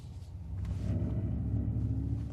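Mercedes EQS electric car at night with its artificial low roaring pulse, a steady deep rumble that swells slightly and holds at moderate level throughout.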